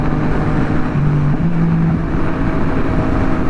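Yamaha MT-09 motorcycle climbing a hill, a steady loud engine drone with a rising tone midway as the throttle opens, close and continuous with no talk.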